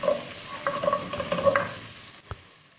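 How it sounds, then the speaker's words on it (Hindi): Garlic paste fries in a tablespoon of hot oil in a pan, a steady soft sizzle broken by a few light stirring scrapes and clicks, then a single knock near the end. There is no talking. "अब एक पैन में 1 टेबलस्पून ऑयल डालूंगी। और अब इसमें लहसुन पेस्ट ऐड कर दूंगी मैं।"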